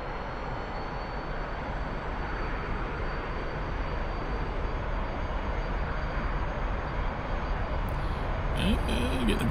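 A T-45 jet in a flight simulator game rolls down the runway for takeoff with flaps set, its steady broadband engine roar holding loud throughout and building slightly toward the end.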